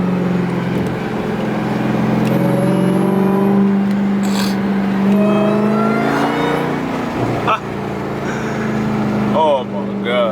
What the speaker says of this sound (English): Hear the downshifts.